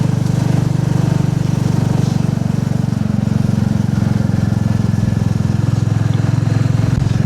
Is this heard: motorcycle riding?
yes